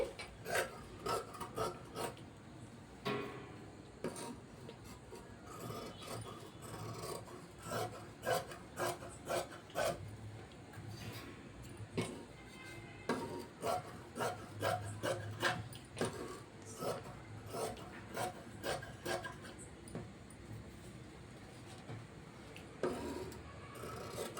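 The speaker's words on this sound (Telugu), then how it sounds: "ఇప్పుడు నీట్గా కట్ చేసేసుకుందాం" Scissors snip through blouse cloth in a quiet, close series of short rasping cuts with uneven pauses between them, with no voices over the sound.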